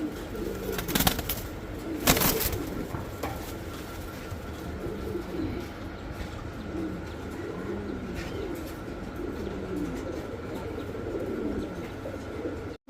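Caged pigeons coo repeatedly in soft, rolling phrases at close range, with a few clattering knocks near the start and a steady background hum throughout.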